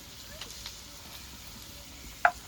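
Ginger, garlic and cumin paste frying in a pan for a chicken and chickpea curry, giving a soft, steady sizzle with a sharp spoon scrape near the end, no voices.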